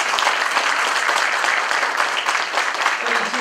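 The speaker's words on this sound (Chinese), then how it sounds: "我们大家给他一个掌声" Dense, sustained applause from an audience at a board of directors installation ceremony, loud and continuous throughout with no pauses.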